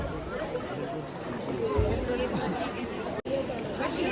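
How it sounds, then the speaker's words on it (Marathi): A dense crowd gathered for the maha aarti at the Banganga festival in Mumbai fills the air with steady, loud chatter and babble from many voices close around, continuous throughout with a brief dropout near the end. "Full on crowded. बघू शकता किती क्राऊड आहे इकडे."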